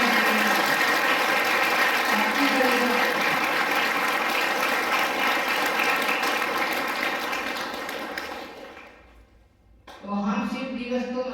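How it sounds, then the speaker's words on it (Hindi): Sustained, dense applause from a large audience at a Brahma Kumaris Shiv Jayanti celebration in Fatehabad, roaring steadily for several seconds before fading out, after which a voice starts speaking. "दिवस को प्रणाम करें, तालियों की गड़गड़ाहट करें।"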